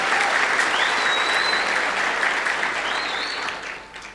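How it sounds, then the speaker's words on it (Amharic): An audience at a talk breaks into sustained applause, thick and even at first, then thinning and tapering off near the end, with a few whoops cutting through. "እስቲ አጨብጭቡ አድግ።"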